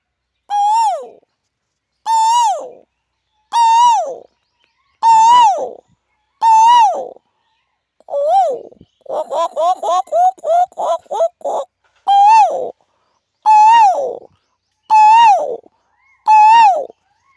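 A voice imitates the Asian koel, giving loud, clear rising two-note calls in a regular series, broken midway by a quick bubbling burst of rapid notes, then more evenly spaced calls, with no other sound between them.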